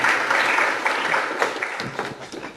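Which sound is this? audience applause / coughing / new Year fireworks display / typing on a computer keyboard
audience applause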